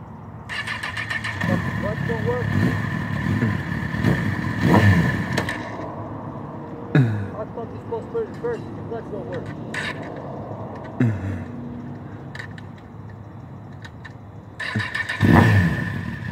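A Honda CBR 1000cc motorcycle engine starts, revs in short bursts and drops back, loud and close, with engine noise returning in spurts between pauses while people talk nearby.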